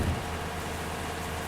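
Steady rain pours in a dense, even hiss, loud and continuous with no talking over it.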